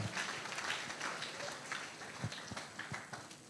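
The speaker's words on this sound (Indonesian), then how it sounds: "Oke beri tepuk tangan yang meriah ya." Audience at a judges' training lecture gives applause, a fairly faint, uneven patter of clapping hands spread through the room with a few sharper claps standing out.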